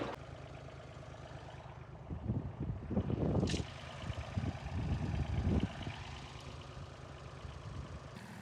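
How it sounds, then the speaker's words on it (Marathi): A small 18 HP farm tractor runs with a steady low engine drone, swelling louder for a few seconds mid-clip before settling back to an even idle-like hum, with no talk over it. "18 HP चा ट्रॅक्टर आहे, 18 ताकद पूर्ण लावून देतो."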